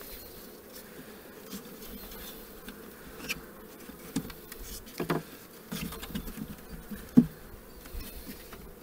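Honeybees buzz around an opened nucleus hive during an inspection of small hives enlarged by stacking, a soft continuous hum with individual bees passing close, plus faint handling knocks.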